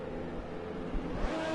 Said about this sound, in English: Revs are up.